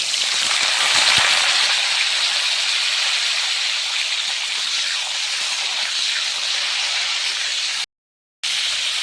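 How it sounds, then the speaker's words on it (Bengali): Cauliflower frying in hot oil in a pan, a steady loud hiss and sizzle running evenly throughout, broken by one brief silent gap near the end. "তেলটা আমার গরম হয়ে গেছে কফিগুলো আমি দিব"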